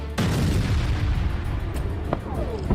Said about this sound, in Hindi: जिसके बाद वहां बड़े धमाके होने लगे।